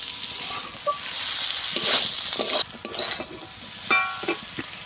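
Water spinach (kolmi shak) sizzles steadily in a hot pan while a spatula scrapes and turns it in several quick, uneven strokes, close and fairly loud with no voices.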